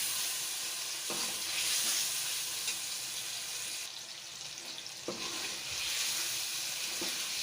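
Boiled mutton goes into fried masala in a karahi pan, giving a steady hiss of sizzling with a few scraping stirs and clinks.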